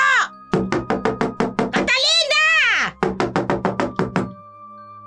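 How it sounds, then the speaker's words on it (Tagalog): Loud, rapid knocking pounds on a house door in a steady run of heavy raps, pausing while a voice shouts, then hammering again; a voice also calls out. "Biglang may malakas na katok sa kanilang pinto."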